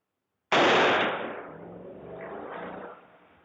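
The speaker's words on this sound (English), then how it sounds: "he's going to shoot multiple times into the house" Gunfire from an AR-15 rifle shot into a house rings out in a loud, sharp blast that echoes and rolls away over a few seconds.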